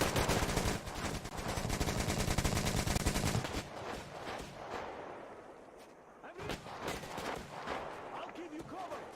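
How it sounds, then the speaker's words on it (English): Rapid, dense bursts from a Gatling gun in the shooter Metro Exodus, loud and continuous for about three seconds, then trailing into scattered shots and distant battle noise while a player talks. "No, the Gatling gun's going again."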